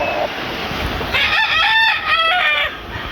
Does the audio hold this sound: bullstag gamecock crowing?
yes